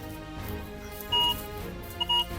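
Two short electronic beeps from a metal detector sound close by, the second a quick double pulse, over faint background noise.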